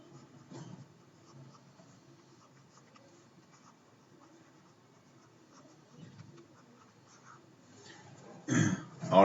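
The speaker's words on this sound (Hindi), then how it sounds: "मैं लिख भी रहा हूं यहाँ पे" A teacher writing notes in a physics class, with faint scratchy strokes running through a mostly quiet stretch and a louder burst of noise near the end.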